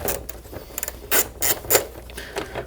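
Ratchet removing a 10mm bolt on a 2017-2020 Honda Grom motorcycle, a few close, quick clicking and rasping ratchet strokes in short bursts, with no talk.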